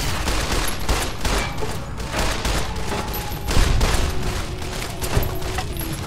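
Rapid, continuous gunfire from the Fallout: New California video game, dense volleys of overlapping shots with a few louder bursts standing out, steady and close throughout with no talk.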